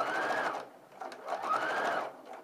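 A sewing machine stitching a curved raglan sleeve seam, two sustained runs of close whirring motor noise separated by a short pause, with no talking.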